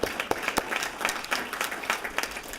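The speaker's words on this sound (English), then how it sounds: "So big round of applause for Sarah Roscoe" Audience applause at a school board meeting: steady, dense clapping from a room of people, sustained and moderately loud with a few sharper individual claps standing out, no talk over it.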